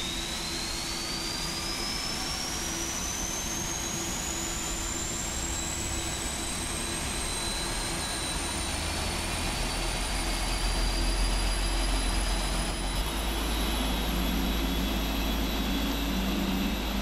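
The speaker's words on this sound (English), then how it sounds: "Start engines 2 and 1." Boeing 747-400 jet engines spooling up in the Prepar3D flight simulator, a steady loud roar with a rising whine that climbs in pitch over many seconds and low rumble building toward the end.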